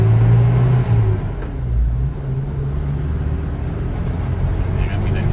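A Toyota Kijang Kapsul engine hums and rumbles steadily during a test drive. The drone swells slightly early on and then holds a low, even tone in the cabin.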